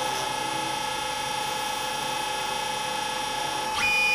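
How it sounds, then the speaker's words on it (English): A Dyna DM 4400 milling machine drills at an angle through a gas jet for a petrol car's gas conversion, giving a steady, loud tonal whine that stays even before a brief change near the end. "Just drilling through at a 15, 20 degree angle, whatever it is, on a gas jet used in the gas conversion of a petrol car."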